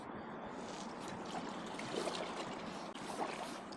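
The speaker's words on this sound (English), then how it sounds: "A little bit more moving water." River water trickling and flowing steadily close by on the Carmans River, a continuous gentle babble around a small paddled packraft with no talking.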